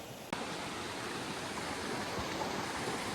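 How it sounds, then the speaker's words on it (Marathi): A strongly flowing river rushes steadily close by, a dense continuous roar of water after a brief click at the start. "नदीला पण अजून खूप पाणी चालू आहे."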